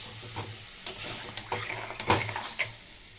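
Water splashes into aloo dum masala frying in a pan, bringing a burst of sizzling with scattered stirring scrapes and spatters, the loudest hiss rising near the middle before settling into a steady crackle.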